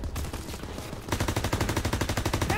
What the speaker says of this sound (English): Lay fire on the infantry by the tank!